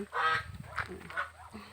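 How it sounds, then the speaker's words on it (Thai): Geese honk repeatedly on a rural farm that also keeps fish ponds, frogs and chickens, a run of loud, close calls in quick bursts with no talking. "เป็ดห่าน"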